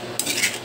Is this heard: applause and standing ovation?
no